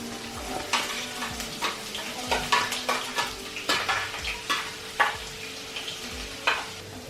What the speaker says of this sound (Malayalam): എണ്ണ ചൂടായി, അതിലേക്ക് നമുക്ക് സവാള മാത്രം ഇട്ട് കൊടുക്കാം.